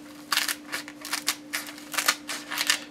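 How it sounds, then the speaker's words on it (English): Scissors snip through the stalk of a corn cob in a quick series of crisp cuts, about seven or eight close, sharp clicks at an irregular rhythm over a faint steady hum, with no talking. "I take a pair of scissors and I cut just below that."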